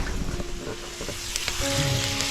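Tempering (phodni) crackling in hot oil in a home kitchen, a close, busy sizzle with sharp pops and a brief stirring scrape, continuous throughout.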